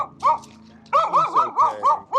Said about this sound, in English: Guard dog.